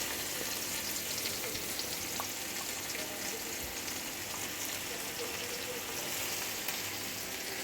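Chopped onion fries in a little oil for a dried-fish curry with sim beans, potato and eggplant, making a constant, moderately quiet sizzle like light rain, with faint scattered pops throughout.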